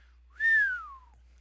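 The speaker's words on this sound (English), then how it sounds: "This sound of someone whistling, going." A single rising-then-falling whistle, one sustained tone with clear overtones, sounded alone in a quiet space for about half a second before trailing off.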